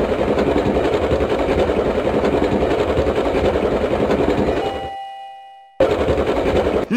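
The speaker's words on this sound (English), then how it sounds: "I think the train can travel on two different circuits." Train from the Hello Pocoyo game on Nintendo DS running with a steady, dense rattling chug for about five seconds. It cuts to silence briefly, leaving a faint tonal ring, then the clatter resumes.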